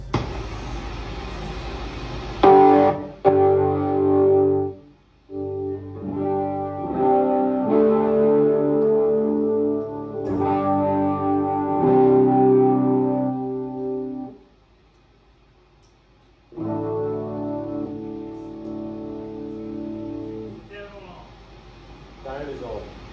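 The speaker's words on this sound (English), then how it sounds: "The 12 string neck sounds better than just one neck." A Red Special replica guitar with a 12-string neck plays chords through effects, ringing with a chorused, distorted shimmer in phrases broken by short pauses, with people talking nearby.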